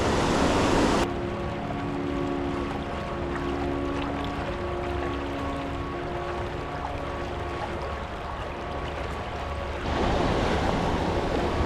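River water rushes over rocks at a trout fishing spot, a steady broadband flow of close, continuous surf-like noise, swelling louder at the start and end.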